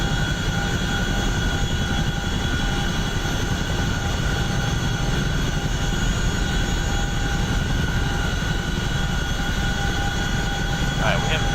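Chinook helicopter in the DCS World flight simulator, a steady loud engine and rotor drone heard from inside the cockpit throughout, with faint radio chatter beneath it.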